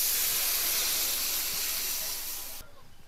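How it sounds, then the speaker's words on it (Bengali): A pot of fish curry broth, a spicy gravy with chillies, bubbles at a vigorous boil, giving a loud, close, steady steamy hiss that cuts off abruptly near the end into a fainter murmur. "বন্ধুরা ঝোল ফুটে গেছে"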